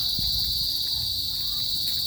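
A steady, high-pitched cricket chorus drones continuously, with faint low thumps underneath and no voices.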